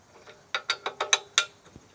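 A ratcheting tool tightening an LED light bracket onto the ROPS of a Kubota B2601 tractor, a quick series of about six sharp metallic clicks, close and fairly quiet, with no talk.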